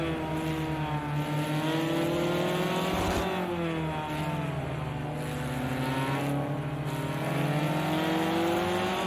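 GTE race car at a Spanish circuit heard from its roof-mounted onboard camera, the engine droning loudly and continuously with shifting pitch as it revs, dipping briefly and climbing again, wind rush underneath.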